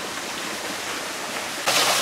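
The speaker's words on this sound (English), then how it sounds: "It's definitely water and it's falling." A garden waterfall over faux rocks in Sunken Gardens, St Petersburg, Florida roars steadily as broadband rushing water, growing louder and brighter near the end as if approached closely.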